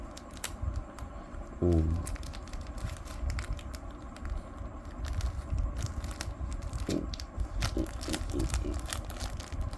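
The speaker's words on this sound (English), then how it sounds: "right now we need to unwrap this guy over here" Crinkling and tearing of tight, glued packaging as a Xiaomi Smart Band 8 box is unwrapped up close, with a brief exclamation and a few sharp crackles standing out over low background noise.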